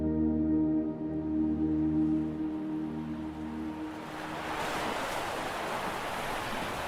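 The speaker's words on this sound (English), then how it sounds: "you can hear even the sound of the breaking waves" Waves break with a broad, steady wash of surf against a terrace built partly over the water at a lakeside Nordic sauna, rising after a low tonal hum fades out in the first few seconds.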